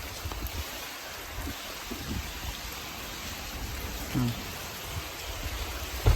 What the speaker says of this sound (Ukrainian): Дощ без зупинки.